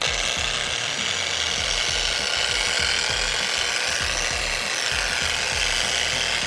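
Power buffer running steadily at a low speed setting on a boat hull, a continuous rough whirring hum with rubbing texture as product is worked up and down and side to side, close and loud without talk.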